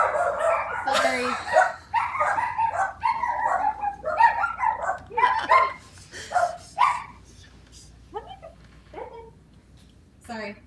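Two dogs, one of them a Maltipoo, bark in a rapid, excited string of high yaps that thins out into scattered barks toward the end, close by and fairly loud.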